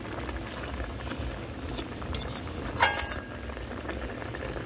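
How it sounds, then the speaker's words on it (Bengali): A pan of bata fish curry in oil and chili is stirred as it bubbles and sizzles quietly, with a single clear utensil clink against the pan partway through. "নাড়াচাড়া করে দিই"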